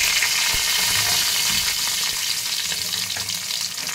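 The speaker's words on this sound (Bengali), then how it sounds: "আদা রসুনটাকে ভালো করে কষে নেব" Ginger, garlic and green chillies sizzle hard in a hot pan with oil and a bay leaf, a loud continuous crackling fry broken by a few soft stirring knocks, with no voices.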